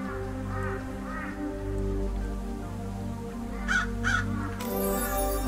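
Crows caw in the Dracula's Legacy video game, two separate bursts of harsh calls over a steady low ambient drone.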